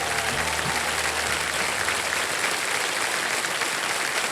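Steady applause from the Kaun Banega Crorepati studio audience fills the whole stretch, dense and even, with a brief low murmur near the start.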